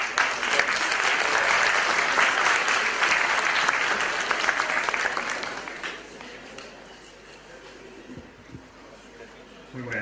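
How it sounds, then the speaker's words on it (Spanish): A seated audience at a Bolivian salteña culinary event claps warmly: a dense, loud round of applause that gradually thins and fades over the final seconds as scattered voices and a speaker begin. "Por favor, lo recibimos con un aplauso."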